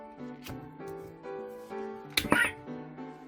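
Short electronic voice clip from the small speaker of a Demon Slayer Rengoku Kyojuro Nichirin sword toy, a tinny spoken phrase with a sharp clash-like burst near the end, somewhat faint.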